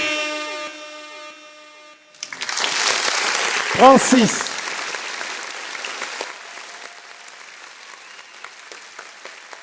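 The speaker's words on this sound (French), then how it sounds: "Est-ce qu'on peut l'applaudir bien fort?" A crowd bursts into loud, sustained applause and cheers for a contestant at a fashion show grand final, rising after a brief pause and tapering slowly, with a voice announcing over the start.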